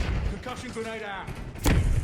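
Grenade explosion in Call of Duty: Vanguard, a single sharp close blast bursting near the end after a brief stretch of game sounds and faint voice-like tones.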